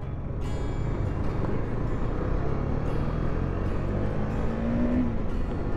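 A KTM Duke 250 motorcycle from 2023 hums steadily while being ridden, with a constant, dense engine and wind drone and a slight rise in pitch near the end, with no talking.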